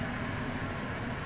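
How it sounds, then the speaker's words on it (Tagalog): Steady heavy rain in a city area with tall buildings, a dense, even hiss of falling water filling the whole brief stretch with no voices. "Kahapon pa yung ulan, walang tigil yung ulan dito guys."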